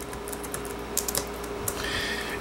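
Keys on a computer keyboard click in quick, uneven bursts as text is typed into a desktop sticky note, with close, crisp taps over a low steady background hum.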